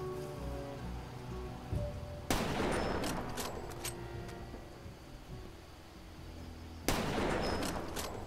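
Two loud bursts of rapid enemy gunfire in the video game Far Cry 2, several seconds apart, each hitting suddenly and trailing off into rattling noise, with quieter game sounds between.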